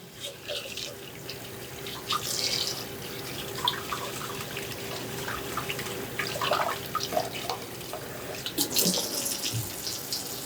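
Tap water runs steadily into a pan as rice is rinsed, with splashing, sloshing and occasional clinks over the constant stream, fairly close and with no talking.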